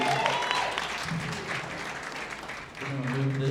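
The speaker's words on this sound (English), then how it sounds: "Another round of applause for those 2 battlers" Audience applause at a roast battle comedy show in Denver, a steady crowd clapping that dips briefly before rising again, with a host talking over it.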